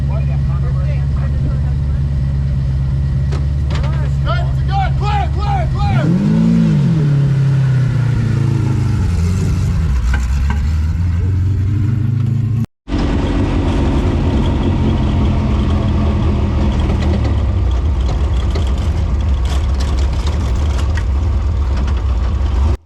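A Class 1 desert off-road race car at a VORRA off-road race drives hard, its loud engine note climbing and falling through repeated revs with a steady rumble and a brief cut partway through.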